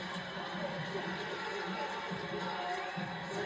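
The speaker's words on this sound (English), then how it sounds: "The crowd is loving this monster block from Singletary" An indoor volleyball crowd cheers a big block at the net, a sustained distant roar of voices with no clear peaks, fairly faint throughout.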